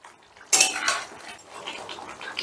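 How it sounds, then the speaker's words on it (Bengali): A metal spoon stirring chicken with ginger-garlic paste in a kadai, a sharp scrape and clink at first followed by softer, irregular scraping and shuffling, close and moderately quiet. "আদা রসুন বাটাটা দিয়েও চিকেনটা একটু নাড়াচাড়া করে নিচ্ছি।"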